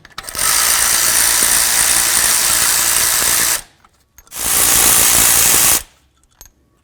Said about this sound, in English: let's go ahead and remove the bolts that hold our caliper to the slider pins